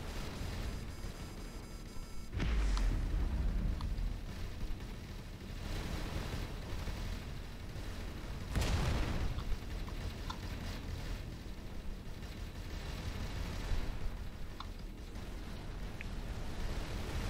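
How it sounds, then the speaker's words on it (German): Torpedo impacts in the space combat game Avorion, with a heavy booming blast near the start and another around the middle over a continuous low rumbling roar of battle. "Jetzt kommt wieder so ein Torpedo rein, ne?"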